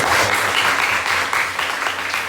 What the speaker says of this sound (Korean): 박수로 한번 다시 한번